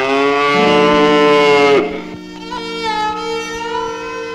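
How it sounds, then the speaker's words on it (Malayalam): A cow gives a loud, close, drawn-out moo lasting nearly two seconds, followed by a softer, lower trailing call, with no talking. "എന്റെ പശു"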